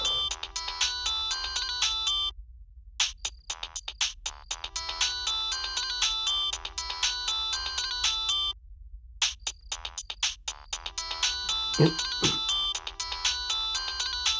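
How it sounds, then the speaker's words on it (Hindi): A phone ringtone plays a bright, repeating electronic melody in loud bursts separated by brief pauses, close and clear. "किसका फोन बज रहा है?"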